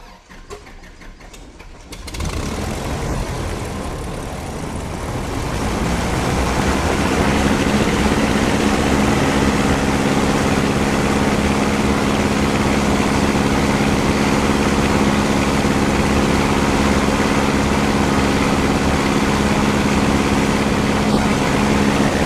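An RV-9A light aircraft engine starts after a brief quiet moment, then settles into a loud, steady propeller drone that builds and holds at a constant roar for the rest of the run during prop balancing.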